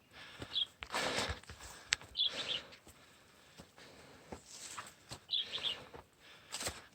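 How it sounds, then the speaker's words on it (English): Birds chirp in short bright bursts on a hot tropical island hiking trail, repeating every second or two over rustling steps and faint movement close by. "you can hear the birds"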